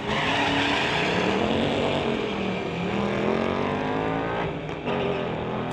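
Drag race cars, one a 2019 Mustang, launching side by side at Mission Raceway, loud engines roaring and climbing in pitch as they pull away, with a brief gear-change dip near the end.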